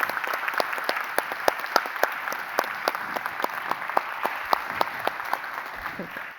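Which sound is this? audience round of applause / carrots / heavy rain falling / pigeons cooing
audience round of applause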